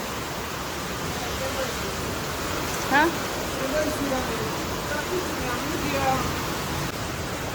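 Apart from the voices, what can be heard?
rain falling with distant thunder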